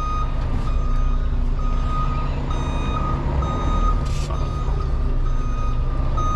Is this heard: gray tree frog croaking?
no